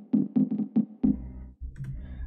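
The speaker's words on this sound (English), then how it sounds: "It's one of the one-shot synth hits" A one-shot synth stab from a Minimal House sample pack sounds as a run of short, punchy hits in quick rhythm, followed by a longer sustained tone with a low bass tail, heard alone.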